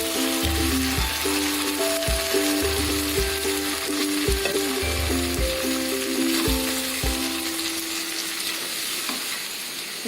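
Spinach frying in a pan for palak paneer, a continuous loud sizzle broken by repeated clanks of a spoon stirring against the pan, the clatter stopping and the sizzle easing toward the end.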